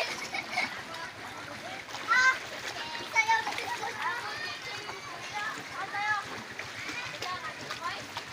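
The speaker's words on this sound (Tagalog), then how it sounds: "Ito po ngayon ang nangyayari dito sa Malanap Highway Elementary School. Baha na talaga." Flood water splashes and sloshes around an elementary school in Palawan during a typhoon, a steady watery wash with a few louder splashes while children and adults talk throughout.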